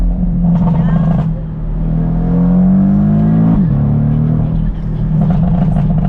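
A Porsche Boxster convertible's loud exhaust drones steadily and its pitch climbs as it accelerates, then drops off sharply before settling back to a low rumble.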